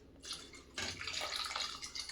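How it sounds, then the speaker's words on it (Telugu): A glass of water is poured into a pot of coconut milk pulao, giving a soft, steady splashing pour that begins almost at once and runs to the end, fairly faint, with no talking. "గ్లాస్ వాటర్ వేస్తున్నాను"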